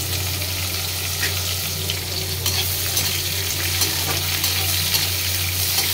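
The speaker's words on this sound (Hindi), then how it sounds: "ये हो गए हैं तो हम डालते हैं कटे हुए प्याज, प्याज और मिर्ची।" Chopped onions and chillies frying in a pan, a loud continuous hiss and crackle of hot oil, steady from start to finish and close, with no talking.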